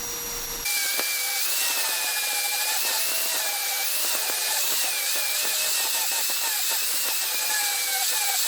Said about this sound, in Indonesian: Nah ini kita amplas tujuannya itu biar menggantikan lapisan yang lama ya ke lapisan yang baru gitu, biar dia lebih mengkilat guys.